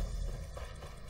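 Horse hooves clopping in The Elder Scrolls Online, a steady run of muffled footfalls over continuous low game ambience, close and moderately loud, with no one speaking.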